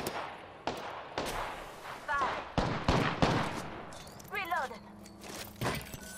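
Bursts of gunfire in Apex Legends, sharp separate shots and short volleys scattered unevenly, with electronic beeps and effects between them.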